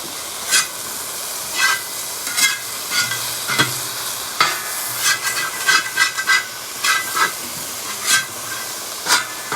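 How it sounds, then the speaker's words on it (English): Peppers, carrots and other vegetables stir-fry in a cowboy wok with a steady sizzle, broken by repeated scraping strokes of the spatula roughly every second, close and alone with no talking. "that moisture from the vegetables is deglazing the pan"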